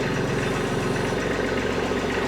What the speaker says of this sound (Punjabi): ਸਟਾਰਟ ਹੋ ਜਾਣਾ ਆਵਾਜ਼ ਵੀ ਸੁਣੋ ਮਿੱਤਰੋ ਇਹਦੀ ਬੜੀ ਪਿਆਰੀ ਆਵਾਜ਼ ਆ